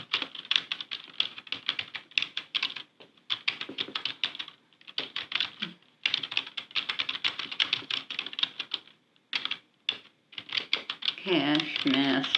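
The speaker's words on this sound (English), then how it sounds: "I'm going to try typing it in and see if that" Rapid keystrokes clatter on a computer keyboard in quick bursts separated by brief pauses, close and fairly quiet, with a short murmured voice near the end.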